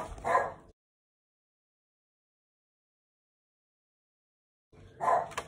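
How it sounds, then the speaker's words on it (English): Dogs barking indoors in short bursts, one brief volley at the start and another after several seconds of silence, moderately close and fairly faint. "Sorry about the dogs, as usual."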